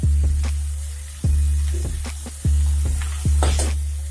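Masala spices fry in a pan for homestyle rajma, giving a close, steady sizzle broken by several sharp knocks or scrapes at irregular intervals, with no talking.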